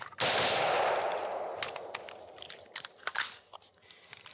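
An M16A2 IAR rifle fires one sharp close shot that decays into a ringing tail, followed by a few fainter clicks and metallic handling noises.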